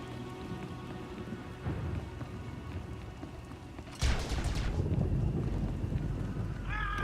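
Heavy rain during a storm in Star Wars: The Old Republic, a steady downpour hiss that swells louder with a crack of thunder midway, with no talking over it.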